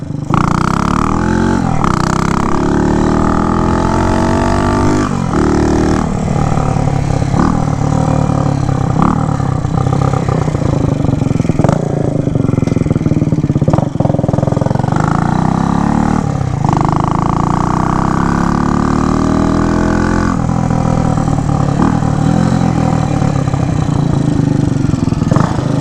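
A 1967 Harley-Davidson H Sprint 250 motorcycle engine runs steadily and close, its pitch sweeping up and down as it revs through gears, loud throughout with no talking.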